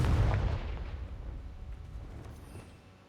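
Confringo spell explosion in the video game Hogwarts Legacy, a deep booming blast that hits hard at the start and rumbles away into a fading low tail over a few seconds.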